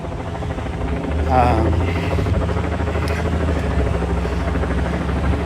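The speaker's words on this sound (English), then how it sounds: "There's already helicopters out here, and they've pretty much got the entire hotel on lockdown." Helicopters circle low over a street protest against police, a loud steady rotor thrum with droning engine hum filling the whole stretch, with faint crowd voices underneath.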